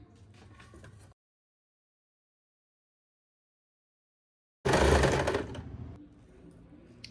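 A sewing machine stitches fabric for bell bottom trousers. After a second of faint background and a long silence, it runs in one loud burst, then quiets.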